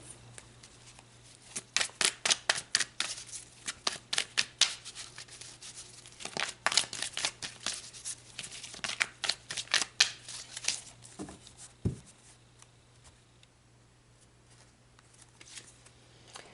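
Tarot cards are shuffled close up in quick bursts of crisp riffling and flicking, clustered in several runs with short pauses and a low steady hum underneath, then a brief thud near the end.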